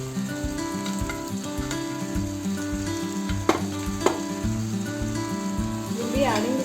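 Beef frying in a pan for a pepper beef roast, a steady close sizzle running throughout with a couple of sharp utensil clicks and a faint voice in the background.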